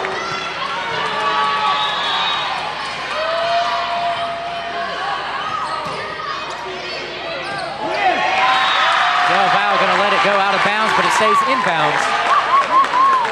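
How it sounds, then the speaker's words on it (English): A gym crowd grows loud at a women's college volleyball match, cheering and shouting beneath a commentator's continuous play-by-play, with the noise swelling sharply in the second half. "Crowd getting loud here in Hayes Gyms"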